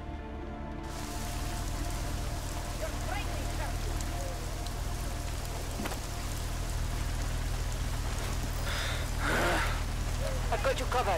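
Steady heavy rain falls in the video game Deus Ex: Mankind Divided, a dense continuous wash that runs the whole time with a brief sharper splash near the end; no talking is heard.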